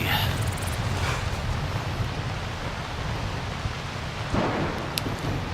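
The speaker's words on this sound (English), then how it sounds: "It's not too lovely that it's raining already." Steady rain pours throughout a thunderstorm in the game Skyrim, a dense continuous hiss with low rumbling thunder beneath, and a brief brighter crackle near the end.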